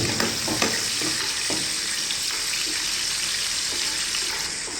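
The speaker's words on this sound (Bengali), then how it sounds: "পেঁয়াজটা একটু বড় বড় করে কেটে নেওয়ার পরে তেলে হালকা লাল করে ভেজে নেব" Coarsely chopped onions fry in hot oil, giving off a loud, steady crackling sizzle throughout, with a few faint stirring knocks early on and no talking.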